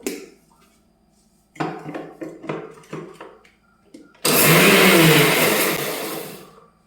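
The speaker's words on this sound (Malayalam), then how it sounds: "കുറേശ്ശേ ഇട്ട് ചതച്ചെടുക്കട്ടെ." Herbal leaves crushed bit by bit on a grinding stone for homemade hair oil: a run of rhythmic, close thumping strokes, then a loud, harsh sustained grinding burst that fades out.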